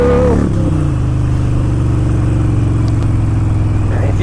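A Harley-Davidson Sportster 1200 motorcycle accelerates hard, its loud, close V-twin engine note rising steadily through a sustained pull after a brief shift of pitch at the start.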